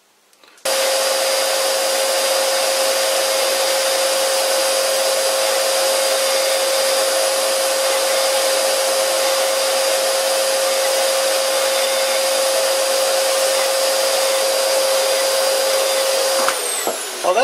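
A vintage lathe cuts a register into an old faceplate to fit a worn chuck, giving a loud, steady, close machine drone with a sustained whine that runs unbroken for the whole stretch and cuts off near the end.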